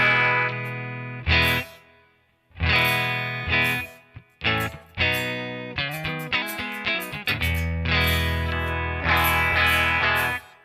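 Electric guitar played through a Headrush multi-effects unit with the Hall 1 Opus spatial reverb at its default setting, clean tone with strummed chords and single notes ringing into a long hall tail, loud and alone with no talk.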